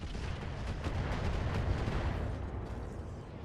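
Rockets fired by mechs in the RogueTech battle game rumble as a dense, continuous barrage of deep booms and bursts, steady and moderately loud with no voices.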